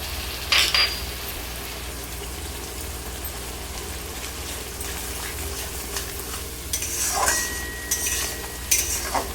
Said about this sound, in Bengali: পোস্তটা মোটামুটি 2 মিনিট অবধি নাড়াচাড়া করে নেওয়ার পরে